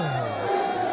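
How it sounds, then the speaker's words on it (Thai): Roaring crowd noise fills a Muay Thai bout between Daoprasuk and Sirimongkon, a steady loud wash of cheering beneath someone talking excitedly over it. "ตอนนี้เสียงเชียร์นี่ก็หึมไปหมดแล้วครับ"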